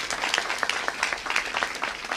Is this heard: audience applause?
yes